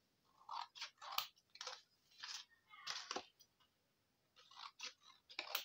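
Scissors cut paper for a small craft organiser, close and quiet, in a series of short crisp snips that come in clusters with brief pauses between them.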